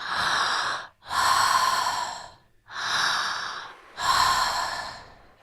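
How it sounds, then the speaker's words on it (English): Slow, deep breaths, close and alone: long airy inhales and exhales in a steady rhythm, about four in all. "Keep breathing, keep breathing."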